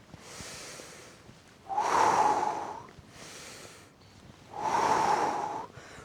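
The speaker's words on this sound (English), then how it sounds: "you can breathe in and out" Slow, deep breaths during a seated chair workout: a softer inhale alternates with a louder, airy exhale, two full cycles heard up close with no talking.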